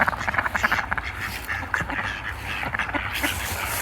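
Ducks being fed outdoors quack repeatedly near a swan, a busy, fairly close run of rapid overlapping quacks and squabbling calls with no clear speech.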